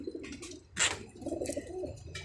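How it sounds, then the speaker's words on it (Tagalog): Soft cooing from pigeons or doves, low hooting calls mixed with a few faint chirps and a brief rustle, fairly quiet and close. "Yan yung mga ibon guys."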